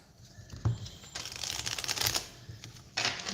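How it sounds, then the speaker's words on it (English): Tarot cards shuffled by hand, quiet papery riffles and soft slapping bursts coming in two clusters, close to the listener and otherwise near silence. "I'm just going to shuffle the cards."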